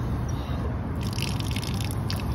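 Water running from a commercial spigot opened with a water key, a steady broadband rush with a brighter splashing texture picking up after the first second, continuous and fairly close.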